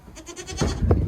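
Young goat kids in a home dairy goat yard in Kyzylorda bleat close by, a couple of short overlapping calls rising toward the end, fairly loud over faint background noise.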